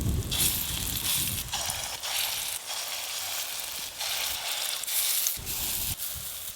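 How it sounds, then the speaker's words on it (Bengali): Lentil fritters fry in mustard oil in a home kitchen, a loud close sizzle that surges and eases in waves, with brief low knocks between the swells. "একবারেই সব বড়া ভাজা হয়ে যাবে,"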